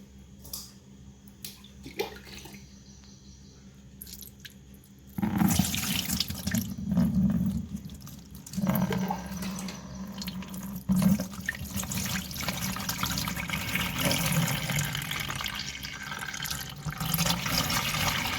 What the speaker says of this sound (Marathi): या कापडानं आपण परत हातची चीक गाळून घेऊ